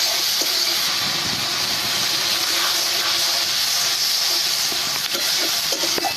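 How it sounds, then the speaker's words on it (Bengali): Water poured into hot, cooked-down tomato masala for a fish curry sizzles and hisses loudly and steadily, close up and unbroken. "এবার আমি সামান্য জল দিয়ে দেবো"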